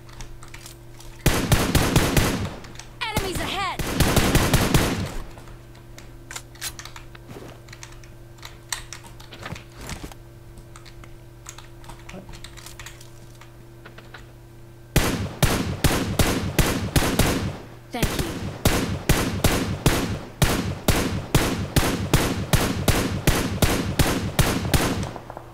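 Gunfire in the mobile battle-royale game PUBG Mobile: short bursts of rapid shots early on, then a long, steady stream of repeated shots in the second half over a low background hum.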